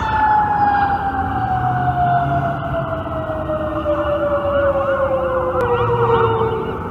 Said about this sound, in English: hold up, wait till the siren passes.